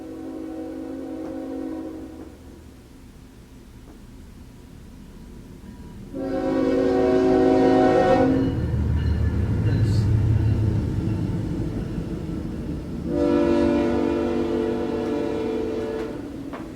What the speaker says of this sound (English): The train is coming.